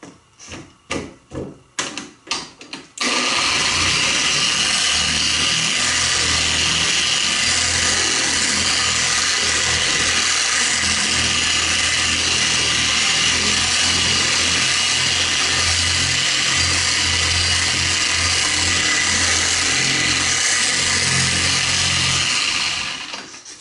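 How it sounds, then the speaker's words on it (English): After a few short bursts, a car polisher runs at low speed spreading wax or sealant on paint, holding a loud, steady whirring drone for about twenty seconds before winding down. "if you've never applied wax or sealant with a polisher before, it's very easy"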